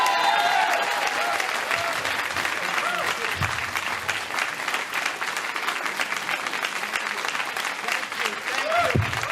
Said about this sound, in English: The huge round of applause.